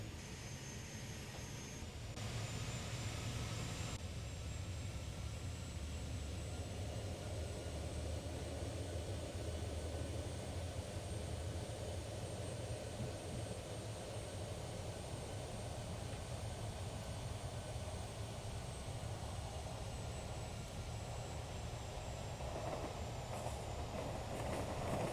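An RTG turbotrain in Train Simulator pulls away and accelerates along the Bresse line, with a loud, steady turbine roar and a faint rising whine that carry on without a break.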